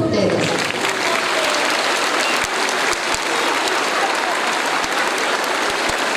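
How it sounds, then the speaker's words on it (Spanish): An audience at a school event applauds schoolchildren, a loud, dense and sustained burst of clapping that carries on without a break. "un aplauso para cada uno de ustedes"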